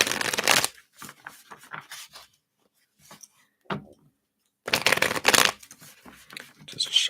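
Cards are riffled and shuffled in several quick bursts, close and crisp, separated by short pauses.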